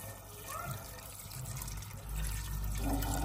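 Water is poured into a cooking pot with a beef cube for broth, a soft trickle that grows into a steadier, fuller splash toward the end, fairly close but quiet.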